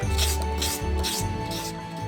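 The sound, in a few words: sanding a resin surface with sandpaper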